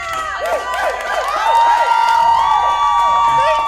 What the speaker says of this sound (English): The crowd's a little excited here.